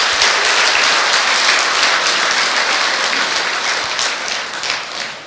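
Sustained applause from a large crowd at a Buddhist military chaplains' anniversary ceremony, dense and steady, slowly tapering off toward the end.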